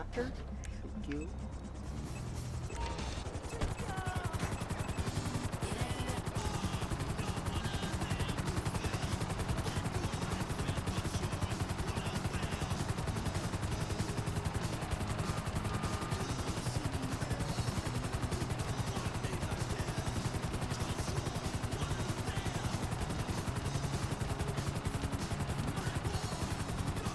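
Helicopter in GTA Online during a Cayo Perico heist setup, a loud continuous rotor and engine drone that fills the scene steadily throughout, with game sounds and voices talking over it.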